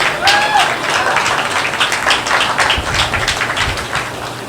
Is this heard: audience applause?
yes